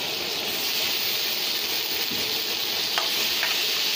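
Ginger garlic paste hits hot oil with browned fried onions for a village-style hilsa fish curry, giving a loud, steady frying sizzle and hiss with a couple of faint clinks.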